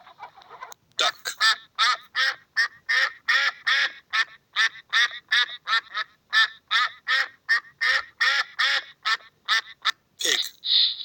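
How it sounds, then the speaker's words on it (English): A duck quacks in a long, even series of loud, nasal calls close by, about two per second, ending with a sharper squawk. "Duck."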